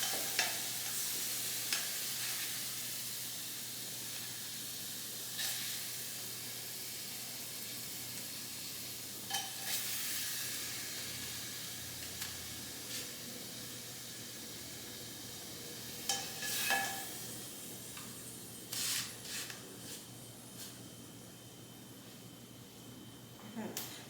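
Pork frying and being stirred in a pot at risk of burning, a faint steady sizzle with occasional scraping and clatter of utensil, quiet and close.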